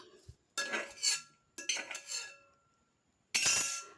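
A spoon scrapes and clinks against a steel mixer grinder jar as tomato and chili go in, in three separate bursts of metallic rattling with quiet gaps between them, close and fairly loud.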